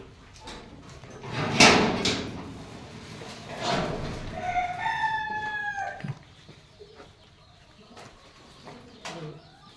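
Desi chickens clucking on a village farm, with a loud rooster crowing once in the middle amid scattered clucks and bangs; a person talks faintly.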